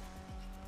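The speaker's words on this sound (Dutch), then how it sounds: "Hij begint te slippen, maar ik denk dat deze auto wel goed kan driften." A short, faint tire squeal as the Omnis rally car slides into a drift in Grand Theft Auto V, a quick descending skid over a steady engine drone.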